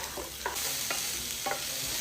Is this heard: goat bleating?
no